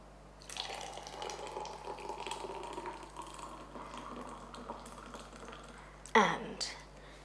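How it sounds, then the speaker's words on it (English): Cucumber cooler drink pours over ice in a glass, a steady trickling stream for several seconds, ending with a brief louder clatter of ice near the end. "And then you pour just half of it."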